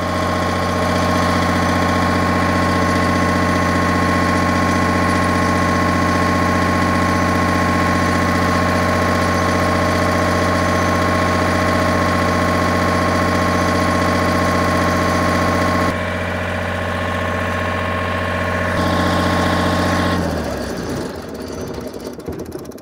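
An MEP 1040 military generator engine runs at a loud, steady idle with a strong constant hum and drone that shifts slightly near the end as the load or sound changes.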